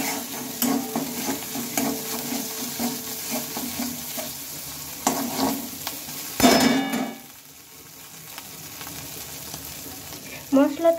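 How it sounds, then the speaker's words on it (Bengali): Garlic and green chilli paste fries in a pan under steady spatula stirring and scraping, with sizzling throughout, occasional metal clanks, and a quieter stretch before the stirring resumes. "মশলাটা একটু ভালোভাবে কষিয়ে নিতে হবে।"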